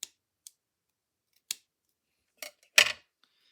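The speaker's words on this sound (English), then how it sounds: "I will try to not bang those scissors. I know that's annoying." Metal scissors handled on a craft table while making journals: a few sharp, isolated clicks and taps spaced apart, then a louder clattering snip-and-set-down near the end, close and crisp in a quiet room.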